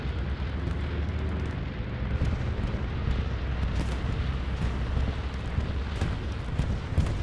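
Heavy, continuous bombardment from a bombing run in Hell Let Loose on the Carentan map, with dense low rumbling explosions and booms overlapping steadily for the whole stretch, loud and close with no voices.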